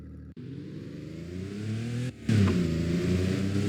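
A car engine in the video game Roblox revs and accelerates with a steady mid-pitched drone, briefly cutting out twice and then coming back louder and higher, with no talk over it.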